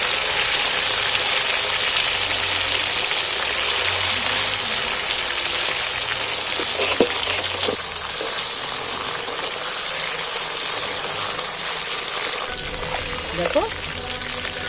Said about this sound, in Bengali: এই বাদ বাকি মাংসগুলো ফের উল্টিয়ে ভেজে দিচ্ছি একবার